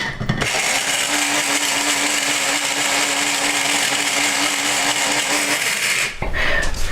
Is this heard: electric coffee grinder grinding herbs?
yes